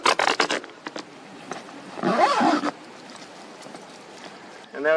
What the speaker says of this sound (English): Now we'll just continue doing the zip all the way around.